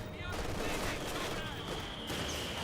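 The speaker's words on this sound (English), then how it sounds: "Those mortars, they're doing some severe damage" Mortar fire and explosions in Company of Heroes 2, a dense, continuous rumble of battlefield blasts and gunfire, loud and steady throughout, with a faint voice mixed into the din.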